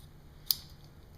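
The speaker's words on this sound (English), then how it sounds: "using some handy dandy scissors" A single quick snip of handy scissors cutting Elasticon elastic tape, a short crisp click close by in a quiet room.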